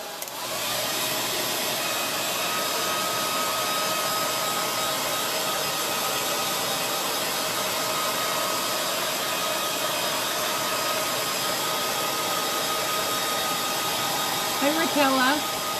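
A hair dryer blows with a steady, loud whooshing hum that never changes, running continuously the whole time.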